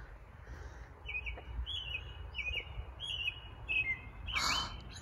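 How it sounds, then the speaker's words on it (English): Garden birds chirp and sing in a repeated run of bright, high tweets, moderately close and clear over a soft outdoor rumble, with no talking. "Oh my goodness, the birds are amazing."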